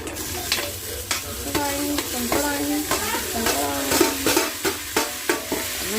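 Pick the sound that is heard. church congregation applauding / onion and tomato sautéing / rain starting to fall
onion and tomato sautéing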